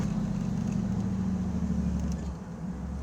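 Steady low rumble of a 1992 Chevrolet Camaro RS V8 idling or cruising, heard from inside the car, a moderate even drone that dips slightly near the end with no voices.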